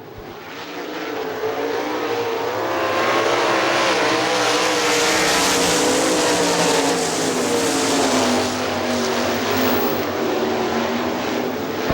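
Sprint cars race on the dirt oval at Hartford Speedway Park in 2001, a loud, continuous pack roar of engines that swells and holds steady as the field runs close by.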